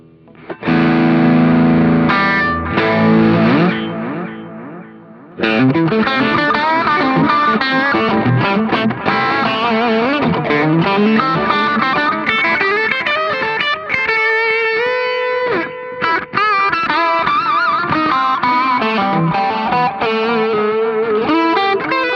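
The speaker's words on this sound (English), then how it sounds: "now I've created my effects chain in an empty patch, and let's see how it sounds" An electric guitar through a Zoom G5N multi-effects chain plays chords and lead lines with heavy distortion, chorus and echo effects, loud and continuous, with no talking.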